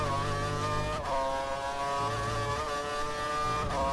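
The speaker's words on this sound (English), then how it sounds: "Accelerating through these corners" Formula 1 car engine at Spa-Francorchamps, a steady high-pitched harmonic whine with pitch shifts and brief drops around gear changes, loud and continuous with no one talking.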